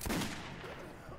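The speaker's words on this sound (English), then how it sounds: "He just shot me." A single loud gunshot in Metro 2033 Redux, a sharp close blast at the start followed by a fading reverberant tail over game ambience.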